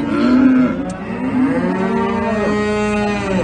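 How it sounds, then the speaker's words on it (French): Cows and calves moo outdoors on a farm as heifers are let out, several long, overlapping low calls following one another, loud and close with no talk. "Ils ont mis les vaches et les veaux dehors."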